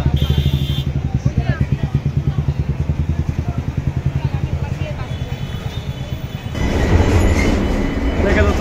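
A Kolkata metro train rides along with a loud, steady clickety-clack of wheels in fast even pulses. The rumble then shifts to a heavier, smoother roar, heard from inside the carriage.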